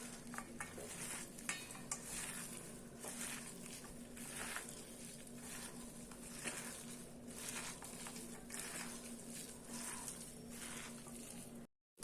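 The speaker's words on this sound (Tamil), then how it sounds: "இப்போ இது கூடவே நம்ம ஏற்கனவே எடுத்து வச்சு அந்த பருப்பையும் சேர்த்துட்டு நல்லா மிக்ஸ் பண்ணிக்கலாம்" Lentil and mint masala vada batter worked by hand in a bowl, giving steady squelching, scraping stirring sounds with soft clinks, close and continuous with no talking, then a sudden cut at the end.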